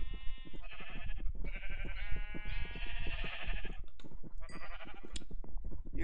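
Sheep in a video game bleat repeatedly, loud and close, in long wavering calls one after another with brief gaps, alone with no talk.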